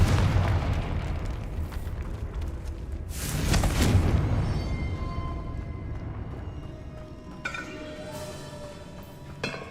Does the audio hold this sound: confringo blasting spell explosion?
yes